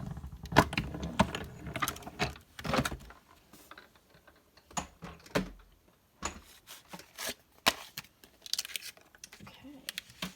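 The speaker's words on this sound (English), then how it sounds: "I'm going to run it through my machine." A manual die-cutting machine feeding cardstock and a die sandwiched between plates, producing irregular mechanical clicks, cranks and rattles in bursts with pauses, close and fairly quiet.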